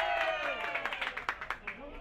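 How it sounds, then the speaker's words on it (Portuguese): A round of applause for a teacher, with sharp claps standing out briefly under ongoing talk and fairly quiet overall. "Salva de palmas pra nossa professora."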